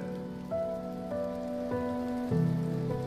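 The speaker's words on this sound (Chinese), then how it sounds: "我真不知道下雨有什么好看的" Steady rain falls continuously and evenly, close and moderately loud, with a sustained tonal backdrop and no talking.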